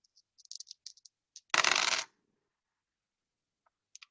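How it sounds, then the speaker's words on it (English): Dice roll and rattle across a hard surface at home in one short, loud clattering burst lasting about half a second, preceded by a few light clicks and taps from handling and followed by quiet. "roll the dice again."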